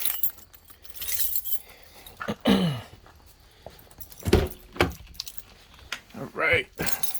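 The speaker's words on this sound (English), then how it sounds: "let's grab the keys" Car keys for a high-mileage Nissan Armada jangle and clink close by in short bursts, broken by brief pauses and handling noise.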